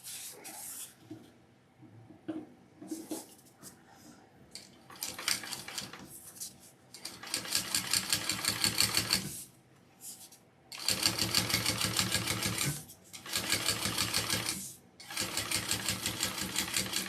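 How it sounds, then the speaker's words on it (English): Sewing machine top stitching along the edge of a vinyl bag, running in several bursts of steady rapid stitching with short pauses between, near and fairly loud, with a few light handling clatters early on. "now we're going to top stitch along this edge"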